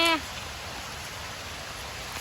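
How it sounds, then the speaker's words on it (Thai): Steady rain falling in a bamboo grove during a search for bamboo shoots, a dense continuous hiss of drops on leaves and surfaces, close and even, with a brief voice at the very start. "ฝนจ้า ยุดให้แน่"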